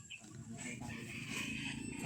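Chickens clucking at close range during backyard gun and amulet testing in Dasmariñas, Cavite, a steady low fowl chatter running throughout with background noise.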